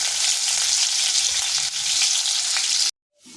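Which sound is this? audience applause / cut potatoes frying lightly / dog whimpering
cut potatoes frying lightly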